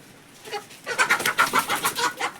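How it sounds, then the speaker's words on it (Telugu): Chickens squabble and cluck in a quick run of sharp, repeated calls, close and lively, starting softly and growing busier after the first half second. "కోళ్ళు అయితే కొట్టుకాడుతున్నాయి"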